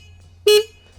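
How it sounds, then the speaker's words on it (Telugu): A Triumph Speed 400 motorcycle horn gives one short, loud, steady beep of about a fifth of a second, close up, against a faint low hum and no speech. "చాలా లౌడ్ హార్న్ ఇస్తారు"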